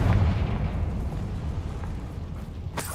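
Fiery blast from the Confringo spell in Hogwarts Legacy, a booming explosive burst that rumbles and fades over a few seconds, with a brief sharp crack near the end.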